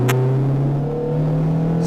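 Renault Clio RS 220 Trophy accelerating hard, a loud close engine drone with a steady tone climbing throughout, with a brief sharp click near the start.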